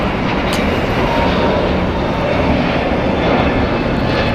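JetBlue Airways airliner at LAX International Airport, a loud, steady broadband engine roar held close and continuous throughout with no voices.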